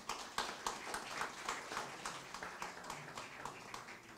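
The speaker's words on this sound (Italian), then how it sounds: "facciamo un applauso" Audience clapping at a poetry award ceremony, a soft steady patter of hands from a smallish crowd heard at a distance, no talk over it.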